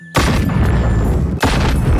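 Two heavy weapon blasts from a shotgun or cannon arm in the BONELAB VR game, each a loud booming burst with a long rumbling tail, the second following about a second and a quarter after the first.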